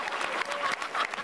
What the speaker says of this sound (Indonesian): sekarang tepuk tangan untuk Bintang saja